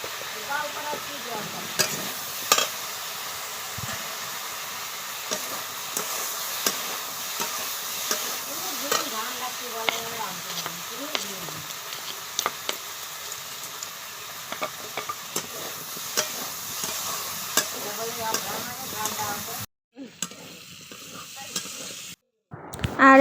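Bitter gourd vegetables stirred and frying in a pan, with a steady hiss and sizzle, scraping stirs throughout, and brief pauses near the end.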